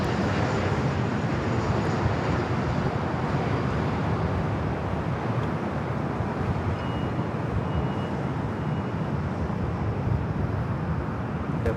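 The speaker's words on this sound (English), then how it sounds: "Flight to Nashville already lining up." An airliner lines up on the runway at Los Angeles International Airport for a flight to Nashville, its engines a steady, loud, even roar that holds throughout with no talk.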